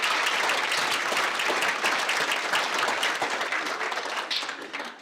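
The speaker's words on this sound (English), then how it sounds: "So wish these guys a great round of applause." Audience applause at a school spring band and choir concert: a dense, steady wash of many hands clapping in a hall, holding loud throughout and easing off slightly near the end.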